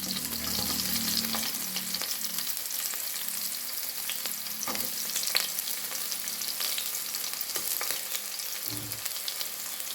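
Mustard seeds, garlic and onion fry in coconut oil for uppittu, making a continuous crackling sizzle close up, with occasional soft stirring knocks from a spoon in the pan.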